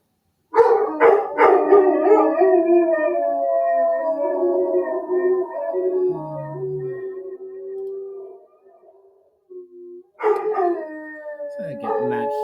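Several dogs howl together indoors in long, wavering, drawn-out notes that fade into a brief pause before another loud howl starts up close.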